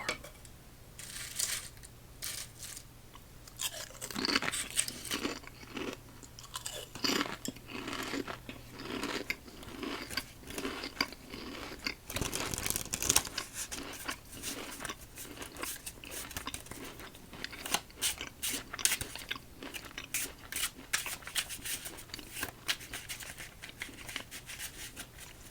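Lay's deep dish pizza flavored potato chips crunched up close, loud brittle bites followed by dense rapid chewing crackles that carry on steadily, with occasional bag crinkles and no talking.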